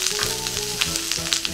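Sliced cabbage stir-frying in hot oil for a Chinese-style meat and vegetable stir-fry, with a loud, dense sizzle close up, steady throughout, over a faint low hum and a few light stirring knocks.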